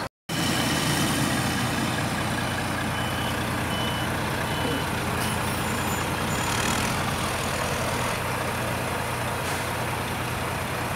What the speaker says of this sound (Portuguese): esse caminhão não conseguiu subir a ladeira